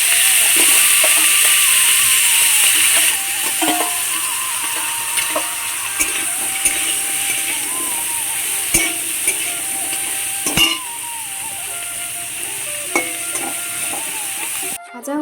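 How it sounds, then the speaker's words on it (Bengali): Young crabs, seasoned with salt and turmeric, fry in hot oil: a loud, steady sizzle and hiss runs throughout, with occasional scrapes and stirring taps near the end. "এবার তেল গরম হয়ে গেছে এবার ভাজতে দিয়ে দিবে"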